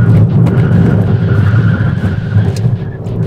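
A Fiat Mobi 1.0 three-cylinder car with 77 horsepower is driven hard around a tight racetrack, its engine droning steadily up close with a low, buzzing hum and faint tyre noise throughout.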